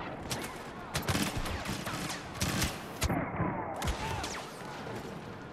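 Gunfire in a Star Wars video game: bursts of rapid blaster-like shots repeat across the moment, fairly loud, with a gamer's voice faintly underneath.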